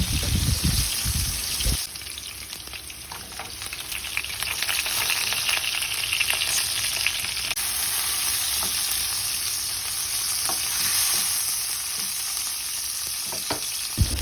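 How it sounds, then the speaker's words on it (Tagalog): Ginger, garlic and onion sautéing in a pan, giving a steady, close sizzle with scattered crackles and stirring scrapes that runs unbroken, with no voices. "unahon ang luya o gisa ug ang garlic unya ang onion"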